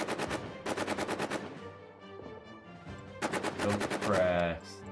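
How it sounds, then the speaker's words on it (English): A machine gun fires in a World War I trench video game. Two rapid bursts of evenly spaced shots come close and loud, with a brief pause between them and a little talking. "Fires with machine gun."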